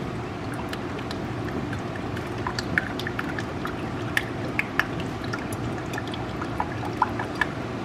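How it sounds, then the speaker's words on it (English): Motor oil pouring through a funnel into the engine of a first-generation Toyota Sequoia during an oil change: a steady, continuous liquid gurgle with scattered small clicks and drips, no talking. "So you're going to pour all 5 quarts."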